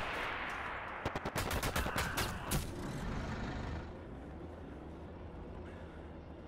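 A World War II online shooter battle erupts with a burst of rapid automatic gunfire, loud and close over heavy rumbling vehicle and battlefield noise, then fades to a steady roar.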